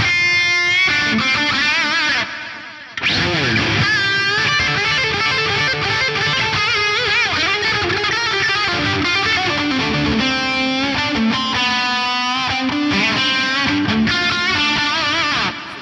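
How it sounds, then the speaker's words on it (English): Electric guitar run through a Fractal FM9 Echo Hall combined delay and reverb effect, a dense driven tone with repeating echoes smeared into a wide wash, played continuously and loud with no talking. "If you want a great combination delay and reverb, try out the Echo Hall."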